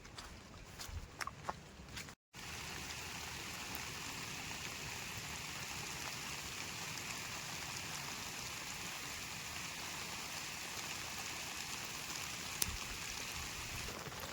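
Steady rain falling on a forest campsite around a tent at night, a soft, even hiss that continues evenly, with a few faint knocks near the start and no talking.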